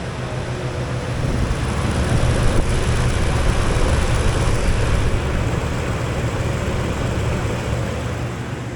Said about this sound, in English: Let you listen to the motor real quick.